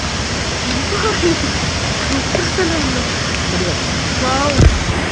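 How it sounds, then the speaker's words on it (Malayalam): Steady broadband rush of a waterfall at a stream near Vagamon in misty hill country, continuous throughout with speech faintly audible over it. "ഇതെന്തായാലും വെള്ളച്ചാട്ടം"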